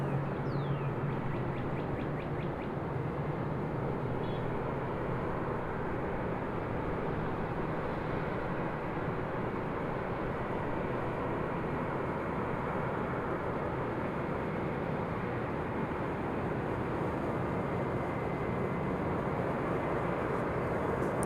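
A Southwest Airlines jet at Raleigh-Durham airport, heard as a steady, broad engine roar with a low rumble that holds through the whole stretch at a moderate distance, with faint bird chirps at the start and no talk.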